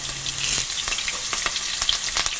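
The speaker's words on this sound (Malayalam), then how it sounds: "വെളുത്തുള്ളി, ആവശ്യത്തിന് ഉപ്പ് എന്നിവ ചേർത്ത് നന്നായിട്ട് വഴറ്റുക." Green chillies and curry leaves sauté in hot coconut oil for a Kerala-style shrimp pickle. The close, steady sizzle is broken by scattered crackles and pops, and there is no talk.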